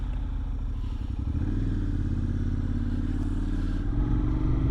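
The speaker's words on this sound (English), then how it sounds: "let's just go ahead and get started with the riding" A Honda NC700X motorcycle rides through city streets, its engine giving a steady, close, low rumble with a slight rise in revs partway through. No talk is heard.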